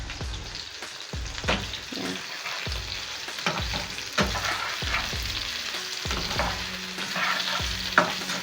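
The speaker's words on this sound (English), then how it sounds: "Keep stirring until it's not pink anymore." Pork pieces fry in a hot pan, a steady crackling sizzle broken by repeated scraping stirs of a spatula, close and moderately loud, with no voices.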